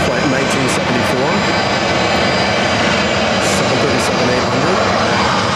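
Jet airliner noise from a Boeing 737-800 arriving from Denver at Phoenix Sky Harbor airport, a steady, loud broadband engine roar throughout, with people talking underneath.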